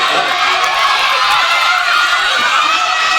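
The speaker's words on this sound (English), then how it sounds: "A race kicks things off, and students cheer their teams on to victory." Schoolchildren at a Japanese elementary school sports day cheering their teams on during a race, a steady bright wash of high-pitched crowd shouting from many young voices, continuous and fairly loud.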